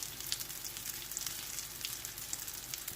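Bun kabab patties fry in a pan with a steady, faint, crackling sizzle, heard alone and evenly through the whole stretch.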